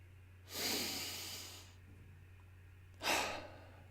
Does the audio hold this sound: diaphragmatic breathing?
yes